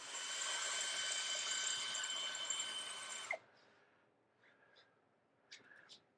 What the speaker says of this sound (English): I think I could just drill right through, put that light right there